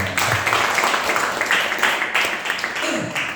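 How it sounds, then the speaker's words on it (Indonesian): Audience at an Indonesian motivational training day applauding, a dense, steady wash of many hands clapping close by for a few seconds, with a voice briefly audible near the end. "Kasih tepuk tangan dong."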